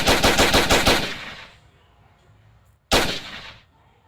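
A gun simulator plays a simulated AA-12 automatic shotgun: a loud, rapid burst of about six booming shots, a short silence, then one more booming shot that fades out.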